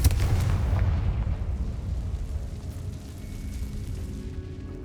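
A Confringo fire spell blasts in Hogwarts Legacy inside an old decayed cellar, a heavy rumbling boom at the start that rolls on as a loud, dense low roar and slowly settles, with no talk.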